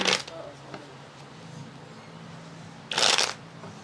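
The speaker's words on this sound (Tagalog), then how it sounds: "Cut the cards into 3." A deck of cards is shuffled close by in brief riffling bursts, one at the start and a louder one near the end, with quiet background between.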